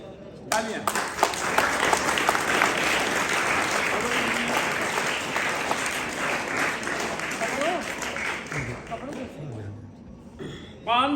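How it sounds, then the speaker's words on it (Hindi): An audience applauds continuously at an event honouring a child, with dense, steady clapping throughout and voices mixed in before it fades near the end. "तालियां।"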